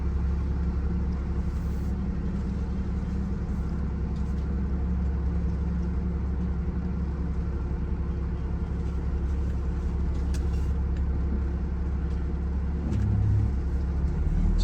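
A luxury RV driving on the road, with a steady low engine and road rumble, continuous and close, as if heard from inside the cabin.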